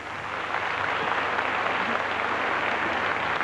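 A French game show studio audience applauds steadily, a dense, even wash of clapping from many hands that holds for several seconds without any speech.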